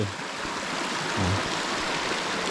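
A stream flows past a rural village between Muang Boun Neua and Muang Yot Ou in Laos. Water rushes steadily and constantly close by, with no voices.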